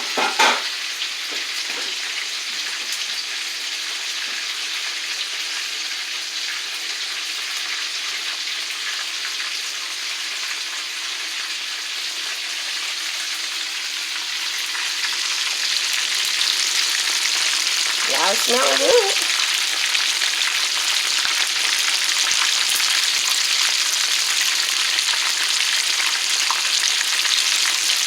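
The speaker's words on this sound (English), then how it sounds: "While that's frying, I'm going to go ahead and get me something to put this chicken in" Chicken drumettes fry in hot oil with a steady, close crackling sizzle that swells louder partway through, and a brief clatter of utensils in the middle.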